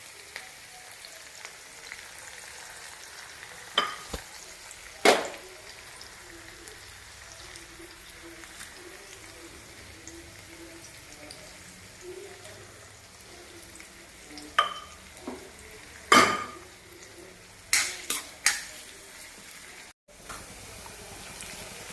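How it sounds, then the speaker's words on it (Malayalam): Chopped ginger, garlic and onion sauté in oil for a potato capsicum masala, a quiet continuous sizzle punctuated by scattered sharp spoon scrapes and clinks against the pan, close and without speech. "ഇഞ്ചി, വെളുത്തുള്ളി അരിഞ്ഞതും സവാളയും കൂടി ഇട്ടൊന്ന് വഴറ്റിയെടുക്കാം."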